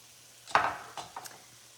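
Food being stirred in a hot pan for a sun-dried red lentil dish, with a few soft scraping stirs and a faint sizzle, quiet and close, no talking.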